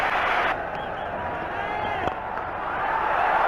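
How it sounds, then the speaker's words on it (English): Cricket stadium crowd at a 1996 World Cup match roaring after a boundary four by Tendulkar, a broad, sustained wash of cheering and noise filling the ground, with a brief sharp knock midway. "Listen to the crowd."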